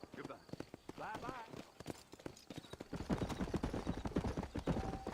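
Horse hooves clip-clop steadily in Red Dead Redemption, at first sparse and then louder and quicker in the second half, under game dialogue and a voice speaking.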